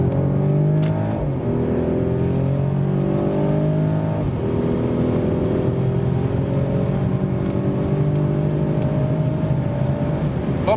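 Mercedes E450 Cabriolet engine pulling hard in sports mode, a loud, steady rising drone with gear-shift dips near the start and around four seconds, climbing again toward high speed, close and continuous with no talk.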